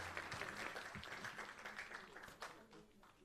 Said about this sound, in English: can I have a big clap for all of them?